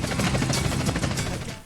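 A helicopter in the video game GTA San Andreas flies close overhead, its rapid rotor chop a steady, dense thumping wash that fills the whole stretch at moderate volume with no voices.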